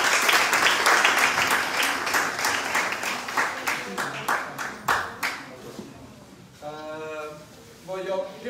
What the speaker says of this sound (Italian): Prego, applauso.